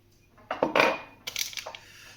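A cake ingredient poured from a glass into a mixing bowl, two short bursts of pattering and clinking against the bowl, close and clear with no talking.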